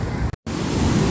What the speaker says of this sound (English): these are some big waves here and lots of surfers in the water